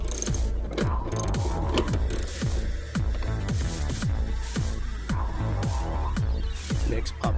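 A ratchet fitted with an extension loosens the battery terminal bolt on a Chevrolet Camaro. It gives a long run of rapid, close clicking pawl ticks with a steady rhythm.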